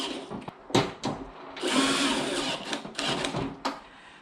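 A 12-volt DeWalt cordless drill drives screws into a Husky cabinet, its motor whirring in short bursts and then one longer sustained run, close and fairly loud, with no talking.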